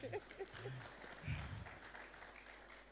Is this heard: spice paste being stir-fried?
no